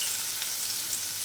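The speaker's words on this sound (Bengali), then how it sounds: "এটা একটু ভাজবো।" Chicken with capsicum and tomato frying in a pan, giving a steady, close hiss of sizzling oil that runs evenly and alone without breaks, at a fairly soft level.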